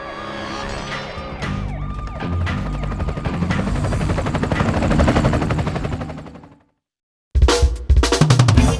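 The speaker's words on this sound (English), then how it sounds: "Donnie, the helicopter." A loud, dense helicopter roar with mechanical whine and layered game effects from Teenage Mutant Ninja Turtles 2: Battle Nexus cuts abruptly to silence, then bursts back in heavily.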